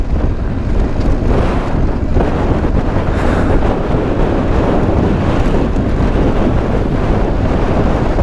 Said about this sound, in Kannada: ಅಷ್ಟು ಗಾಳಿ ಬೀಸ್ತಾ ಇದೆ